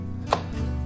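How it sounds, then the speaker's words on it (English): A knife dices a white onion into small pieces on a cutting board, giving a single crisp chop over a low steady background hum. "first I'm going to dice"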